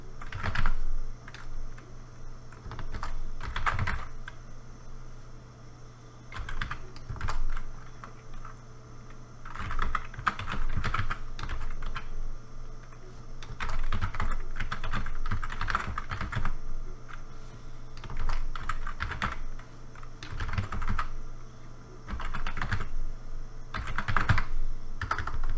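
Code being typed on a computer keyboard: steady bursts of quick key clicks at close range, broken by short pauses and a few heavier strokes, with no talking.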